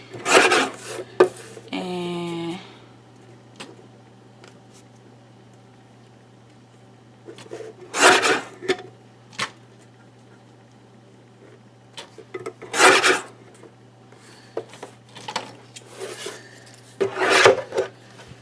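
Paper is trimmed for a 12x12 scrapbook layout in several separate rasping cuts, each a short rough scrape with quiet pauses between, plus one brief squeaky rattle near the start.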